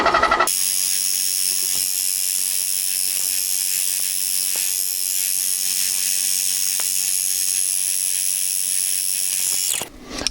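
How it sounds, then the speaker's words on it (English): A steady high-pitched whine of a bench drill drilling copper pipe runs continuously for about ten seconds, with faint scraping and clicks as it cuts, then stops. "Just turn the bench drill on and then we can start to drill."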